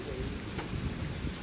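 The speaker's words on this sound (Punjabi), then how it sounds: "ਫੁੱਲ ਬਾਰਿਸ਼ ਆ ਗਈ" Heavy rain pours down outdoors in a rural farm setting, a dense, steady roaring wash of sound with no voices.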